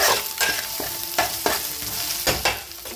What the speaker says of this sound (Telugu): ఈ అల్లం వెల్లుల్లి పేస్ట్తో పాటు పచ్చిమిర్చి కూడా మొత్తం బాగా పచ్చివాసన పోయినంత వరకు ఫ్రై చేసేసుకున్నాం